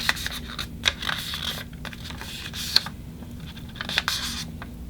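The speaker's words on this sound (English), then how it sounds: "And now let's fold it in half diagonally." Sheet of paper folded diagonally in half for an origami butterfly, giving soft crisp rustles and a few sharp creasing snaps close up, with no talking.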